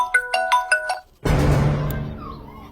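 Mobile phone ringtone for an incoming call: a short repeating electronic chime of four bright tonal notes, close and clear, then cut off abruptly by a burst of broadband noise.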